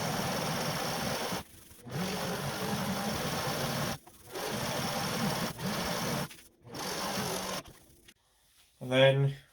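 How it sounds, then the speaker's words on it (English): Sewing machine stitching liner pieces for the hood of a Harry Potter Hogwarts robe, running in several steady bursts separated by short pauses, with a voice briefly heard at the end. "So just take your 2 liner pieces and put them together and stitch the same spot."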